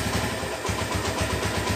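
Suzuki Thunder 125 motorcycle engine idling nearby with a steady, pulsing low thump and a mechanical clatter over it, with no voices.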